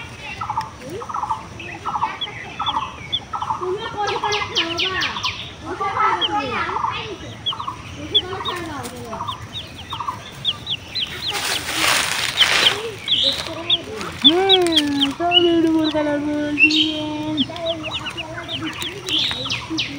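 Chickens cluck and squawk close by in a busy, overlapping stream of calls, with a brief burst of noise midway and soft background sounds.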